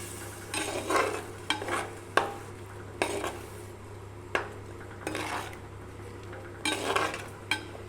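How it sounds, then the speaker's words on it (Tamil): Masala for crab curry cooking in a pan, a low simmering hiss under a hum, broken by intermittent spoon scrapes and sharp metallic clinks against the vessel at irregular intervals. "இது நல்லா கொதித்து வதங்கி வரட்டும்"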